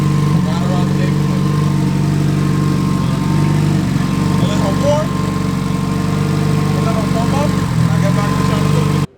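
A 700HP turbo Honda Civic EK sits idling while it warms up, its engine a steady, lumpy drone nearby with slight rhythmic pulsing, before cutting off abruptly at the end.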